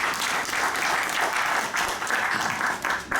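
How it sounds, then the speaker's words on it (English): An audience at a graduation celebration breaks into sustained applause, a dense continuous wash of clapping from a large crowd that holds steady throughout with slight swells. "Can you not clap for him, please?"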